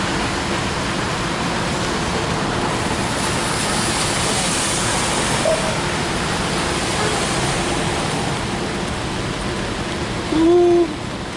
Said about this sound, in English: Oh, what a rainy day.